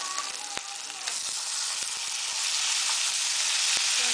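Tomatoes hit hot oil with garlic paste in a pan for a potato and tomato curry, setting off a loud, steady close-up sizzle that stays bright and constant, with a few faint clicks and no talking.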